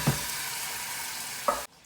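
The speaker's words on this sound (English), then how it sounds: "add your garlic, stir that round, cook that for about a minute or two, and then add in a tin of chopped tomatoes" Onion, garlic and chopped tomatoes being stirred in a pan for a homemade pizza sauce: a steady broadband sizzle with soft scraping of the spoon, a brief clunk near the end before it cuts to near quiet.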